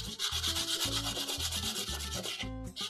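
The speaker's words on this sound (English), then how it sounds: "Now I'm going to get my coarse sandpaper out and get that corner out as fast as I can." A drawing pencil is rubbed quickly back and forth on coarse sandpaper to shape its tip, a close, rhythmic scratchy rasp of rapid strokes with a brief pause near the end and no voices.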